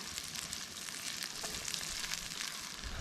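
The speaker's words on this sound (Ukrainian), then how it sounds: "смажимо потрошечки, перевертаємо" Steady, dense sizzling of poultry giblets frying in hot oil for pilaf, crackling continuously at a moderate level with no voices.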